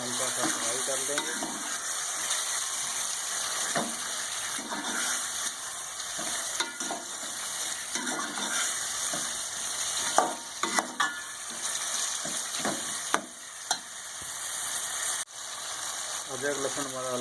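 Ginger garlic paste sizzles and fries with onions in a hot pan for karela sabzi, a steady loud crackle with occasional stirring clinks and scrapes of the spoon.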